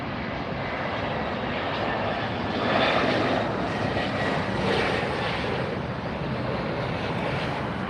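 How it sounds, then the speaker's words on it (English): A United Airlines airliner touches down at LAX airport, a steady broadband engine rush with wind buffeting the microphone, swelling briefly midway and holding at a constant moderate level without any talk. "lift the nose, set the rear wheels down, and then land that front gear"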